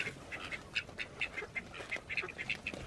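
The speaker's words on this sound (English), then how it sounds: "Ducks have had it all. They're climbing on my feet." Ducks quack repeatedly in quick, close bursts along a nature trail, a lively chorus of short calls with no talking.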